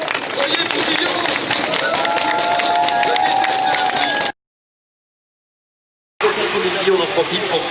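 Roadside crowd at the Tour de France on the Île de Ré, a dense roar of cheering, clapping and babble with a tonal whine over it, cut by a sudden stretch of silence before the noise resumes.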